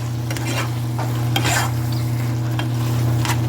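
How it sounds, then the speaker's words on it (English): A spoon stirs stewed okra, tomatoes and fatback in a pot, giving a soft, continuous scraping and squelching with a light simmering sizzle underneath, close and steady, with no talking. "Alright, so we're gonna stir this through."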